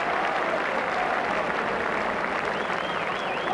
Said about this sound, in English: So applause for the injured Dale Gordon as he is carried from the field of play.